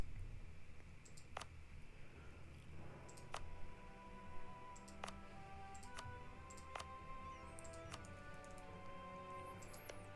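Sharp, isolated mouse clicks while playing Europa Universalis IV, about six crisp ticks spaced irregularly over a steady low background hum, close and moderately quiet.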